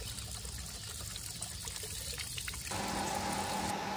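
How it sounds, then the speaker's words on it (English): Sediment-laden water drains from a household water heater into a bucket, a steady close pouring and trickling rush that continues without pause and grows slightly fuller partway through. "there's a lot of crud coming out of there now that didn't come with just plain draining it."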